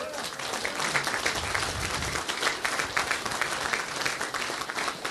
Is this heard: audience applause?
yes